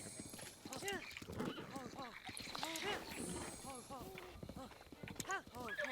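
Horse hooves clip-clop steadily in the video game Breath of the Wild, a quick rhythmic patter heard under a man's speech.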